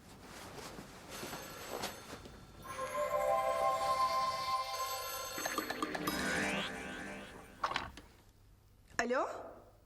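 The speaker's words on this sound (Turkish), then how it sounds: "Telefon mu çalıyor?" A telephone rings in a home scene from a Turkish TV comedy, its bell trilling in bursts over mechanical clatter while voices speak around it.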